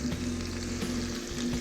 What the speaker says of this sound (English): Look at it sizzle.